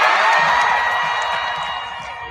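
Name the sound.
audience applause and cheering at the Emmys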